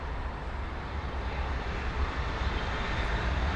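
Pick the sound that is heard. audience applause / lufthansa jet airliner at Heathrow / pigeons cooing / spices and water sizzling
lufthansa jet airliner at Heathrow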